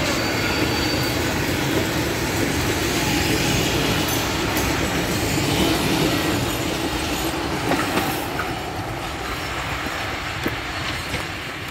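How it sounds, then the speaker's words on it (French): A steam train rolls past on a hiking trail in the French countryside, a loud, steady rumble of wheels and carriages with faint squeals and clatter, fading slightly toward the end. "Machine à vapeur, je vous l'avais dit."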